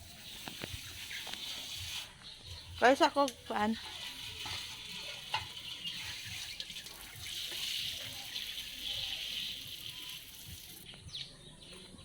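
Soapy water sloshes and splashes as bed sheets and blankets are washed by hand, with several short wet swishes and splashes midway, under a steady background hiss and a few brief spoken words.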